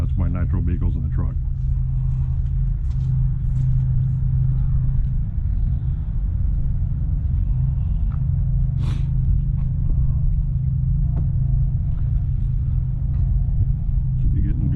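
The Bouncer truck, called Bad JuJu, runs its engine at a steady low rumbling idle, loud and close for the whole stretch, with people talking over it.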